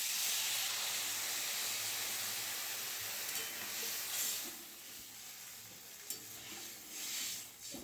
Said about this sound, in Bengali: দিয়ে দেবো জল সবজির মধ্যে।